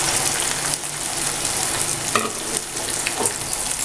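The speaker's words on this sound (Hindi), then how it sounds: "इसमें शामिल कर देंगे इन अंडों को जो दो अदद अंडे थे वो मैं इसमें शामिल कर रहा हूँ" Two eggs land in a hot frying pan for an anda ghotala, sizzling and crackling steadily and loudly up close, with occasional stirring scrapes and no talking.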